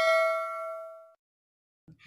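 A single bright bell ding rings out and decays over about a second, followed by silence and a brief faint rustle.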